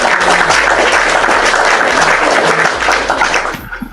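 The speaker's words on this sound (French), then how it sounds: "des applaudissements" An audience claps and applauds at a public gathering, a dense, loud, continuous wash of hand claps that holds steady and then tapers off near the end.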